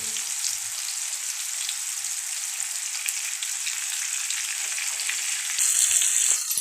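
Fish fries in a pan of hot oil with curry leaves, giving a steady, close, even sizzle throughout that grows slightly louder and brighter near the end.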